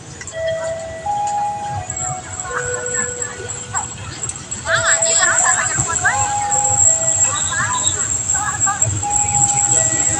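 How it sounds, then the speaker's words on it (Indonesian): A station chime melody plays alongside an Indonesian loudspeaker announcement at Leles station while the low rumble of the arriving Pasundan passenger train builds and grows louder. "Kereta api Pasundan masuk berhenti di jalur 1 stasiun Leles."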